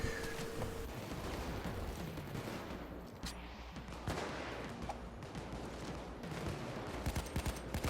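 Sustained Payday 2 firefight, rapid automatic gunfire and overlapping shots rattling nonstop with occasional heavier bangs, fairly faint in the mix.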